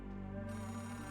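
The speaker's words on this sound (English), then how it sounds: "Payphone ringing in the wild?" A payphone ringing outdoors in the video game Oxenfree 2, a short burst of steady electronic bell tones, moderately loud and alone.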